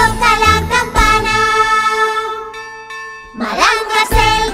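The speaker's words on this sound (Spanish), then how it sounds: "¡Toca la campana!" A school bell rings in the Peppa Pig cartoon, a bright, loud metallic ringing in several strikes with ringing decays and a short pause before another burst.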